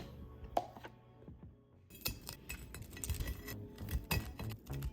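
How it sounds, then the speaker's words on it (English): Hot honey being stirred into a mixture in a bowl for boudin balls, heard as irregular clinks and scrapes of a utensil against the bowl, with quiet gaps and a busier run of knocks in the second half. "At this point, just stir it around."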